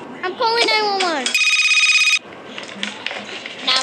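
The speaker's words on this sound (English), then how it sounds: "I got my phone. I'm calling 911." A telephone rings with a short, steady electronic tone while a call to 911 is being placed in a children's skit. A voice speaks just before the ring, then faint background sound follows.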